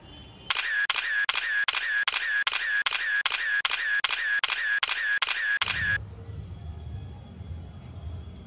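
A single-lens reflex camera at a beach fires a rapid burst of about fourteen evenly spaced shutter clicks, loud and close, then stops, leaving soft ambient noise behind.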